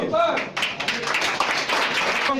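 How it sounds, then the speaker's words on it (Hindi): A crowd at a political party gathering in a busy hall claps steadily, loud and dense applause with some scattered louder claps filling the whole stretch. "ताली बजाइए आप"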